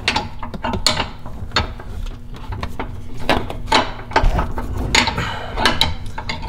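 A ratchet wrench clicks rapidly in uneven bursts as it works a tight bolt on a 2018 Ford Mustang GT, close and fairly loud with metallic knocks between strokes.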